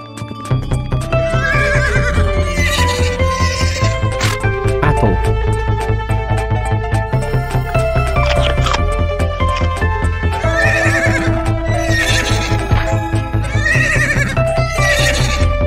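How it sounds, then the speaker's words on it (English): A horse in an animal sound matching game gives loud, repeated neighs and whinnies over clip-clopping hooves and steady background music, with no talking. "Horse."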